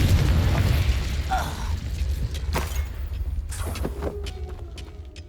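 A Confringo spell bursting in the Hogwarts Legacy video game: a loud booming explosion that decays into rumbling debris, followed by scattered sharp crackles and pops, with no speech.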